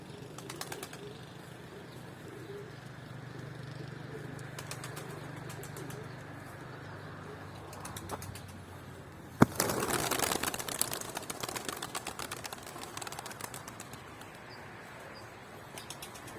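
Pigeons are released and take off in a burst of flapping wings, a sudden loud flurry midway that flutters on and thins out, over a low engine hum and quiet outdoor background.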